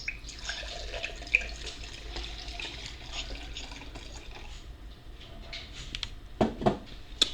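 Cheap wine being poured into a glass, a soft trickling liquid stream with a few small clinks and splashes near the end, close and fairly quiet.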